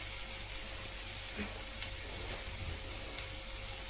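Onions and jackfruit flesh frying in a pan, a steady soft sizzle running throughout with faint stirring clinks.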